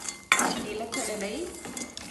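Cashews, peanuts and plums roasting in ghee in a pan, with a sharp clink of a metal utensil against the pan, then stirring and scraping over a soft sizzle, close and brief.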